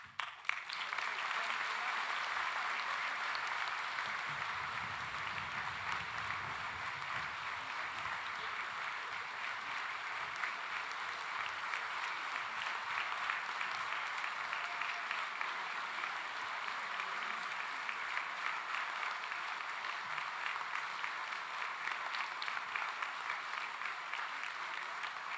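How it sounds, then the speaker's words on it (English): An audience applauds steadily at a university graduation ceremony, a continuous, even wash of many hands clapping that holds for about twenty-five seconds and sounds somewhat distant. "tremendous clapping"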